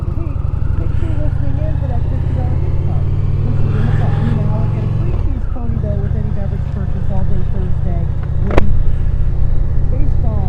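A 2025 Indian Chieftain motorcycle engine on a wet-weather test ride, a loud, steady low rumble that holds even throughout with a slight shift in pitch midway, close and continuous.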